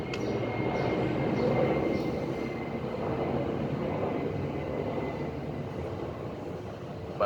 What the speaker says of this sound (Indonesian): Barusan suara pesawat